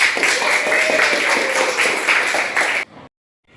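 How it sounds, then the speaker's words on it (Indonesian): Dense, steady clapping from a classroom audience after a nursing students' cold compress practice demonstration, a crowd of hands applauding together for almost three seconds before cutting off abruptly. "Tepuk tangan dong, betul Pak."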